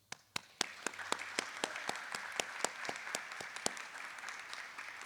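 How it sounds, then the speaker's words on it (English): Applause from a graduating class at a flight paramedic course ceremony, opening with a few sharp, distinct claps that quickly fill into steady, moderately quiet clapping from the group. "I would like the graduating class to give a round of applause for the people that support us"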